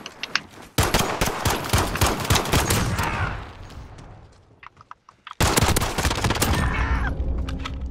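Pistol fire in a video game gunfight, loud rapid bursts of shots up close, a brief lull with scattered pops, then another dense volley.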